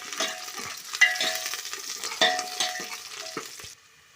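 Onions fry in oil in a pan while being stirred, making a close sizzle broken by sharp scraping strokes of a spoon before falling quiet at the end.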